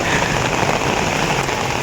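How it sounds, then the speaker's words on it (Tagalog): Steady, dense rain pours onto a surface in a continuous loud hiss with no voices. "Guys, umuulan po."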